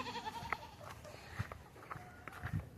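Goats bleating on a small homestead farm, a few separate calls spread across a couple of seconds, moderately near, with faint footsteps and other farmyard noise around them.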